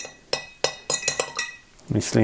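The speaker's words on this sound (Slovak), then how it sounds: "Slad má tendenciu tvoriť malé hrudky, takže treba to trošku dlhšie miešať" A utensil stirs malt extract into water, clinking sharply against the container several times in an uneven rhythm, close and fairly loud, followed by a soft swish.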